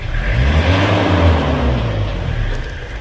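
A rebuilt Toyota Kijang diesel engine revving up close, a loud rough roar that climbs and then holds with a low droning rumble, steady for a few seconds.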